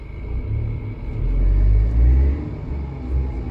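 A Tata Altroz DCA automatic and a manual Hyundai Grand i10 Nios launch side by side in a drag race, heard from inside a car with the windows up: a deep engine rumble that swells through the middle and then eases, with no talking.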